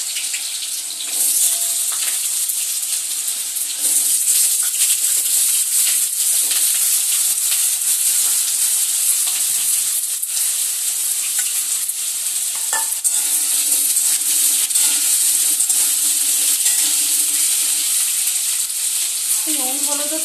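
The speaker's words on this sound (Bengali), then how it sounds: "এবার আমি এই কেটে ধুয়ে রাখা আলুগুলো কিন্তু তেলের মধ্যে একটু লাল লাল করে ভেজে নেব।" Cut, washed potatoes frying in hot oil for a crab curry make a loud, continuous sizzle with a bright crackling hiss. Occasional stirring clinks sound close by.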